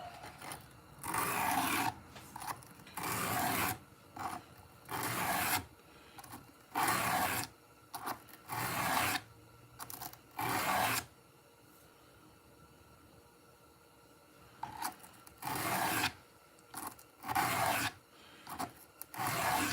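A leather slip edge is hand-bevelled with repeated short rasping strokes in uneven bursts, separated by quiet pauses, close and fairly soft, with no talking.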